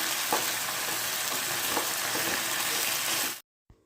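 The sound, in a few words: crab frying in ghee in a pan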